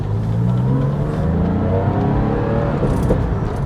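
A Porsche 996 Targa fitted with a quick shifter upgrade revs up from inside the cabin, the engine note climbing and dropping as it shifts into second gear, steady and close.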